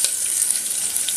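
Onion drops into hot oil in a pressure cooker and sizzles with a steady, bright, hissing fry that holds even through the short stretch, close and alone.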